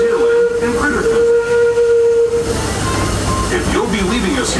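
A Disneyland steam train's whistle blows one long, steady, loud blast close by as the train nears New Orleans Square Station, then gives way to hissing steam and rumbling rail noise.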